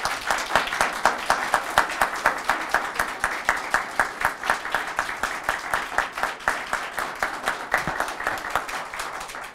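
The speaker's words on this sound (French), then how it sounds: "J'aimerais que vous les applaudissiez." Audience applause at a French-language writing contest awards ceremony, a steady rhythmic clapping from a moderately sized crowd held at an even level for nearly ten seconds with no talking over it.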